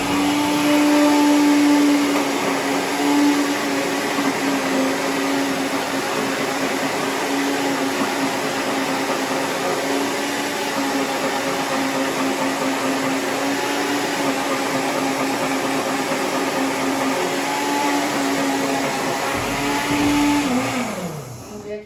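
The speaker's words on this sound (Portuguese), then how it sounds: "Vamos nós pro processo de liquidificação mais uma vez." A blender whirs loudly and steadily for about twenty seconds, its motor drone holding a constant pitch, then winds down at the end.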